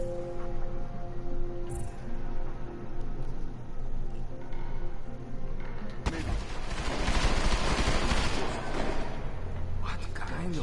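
Gunfire in Deus Ex: Mankind Divided as enemies shoot up a bookstore room: a quieter stretch of game ambience gives way to a loud, dense barrage that keeps going to the end.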